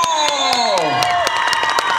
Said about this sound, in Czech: Se vám teď ještě jednou klaní a čekají, že jim zatleskáte, potom zatleskat